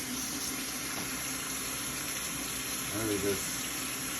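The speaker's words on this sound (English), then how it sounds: "I of course rinse them off in cold water." Cold tap water runs steadily into a kitchen sink while lamb chops are rinsed, a constant gushing hiss with a short spoken word near the end.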